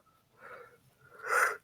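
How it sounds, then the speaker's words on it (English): A person's yawn, short and close, with a soft breathy onset and then a louder open-mouthed exhale that swells and fades, heard alone. "You guys need to remember that I always yawn no matter what."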